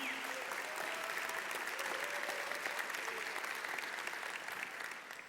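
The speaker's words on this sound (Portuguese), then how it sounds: "Pode aplaudir." Sustained audience applause at a Christian religious talk fills the room steadily and evenly, fading slightly near the end, with a faint voice briefly heard beneath it.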